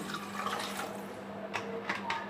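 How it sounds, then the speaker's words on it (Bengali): Water is poured into a pressure cooker sitting on a gas stove, a soft steady liquid splash with a few brief sharper splashes toward the end, quiet and close. "প্রেসারে গ্যাসে বসিয়ে দিয়েছি, জল দিয়ে দিলাম।"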